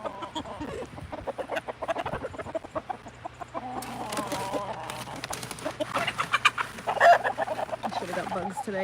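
Backyard hens cluck and chatter in short bursts at close range, mixed with a voice calling and talking to them over a low steady hum.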